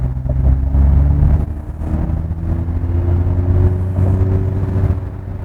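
Genesis G80 electric car accelerating in heritage mode, an artificial engine note humming low and steady with a slowly rising pitch over road rumble, close and moderately loud.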